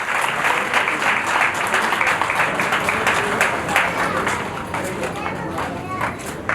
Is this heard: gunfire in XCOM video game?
no